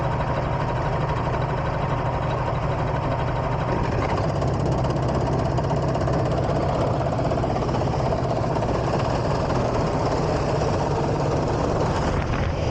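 Loud, continuous engine roar from Three Sisters race cars at a race start, a dense droning mass of revving motors that holds steady throughout with no talking.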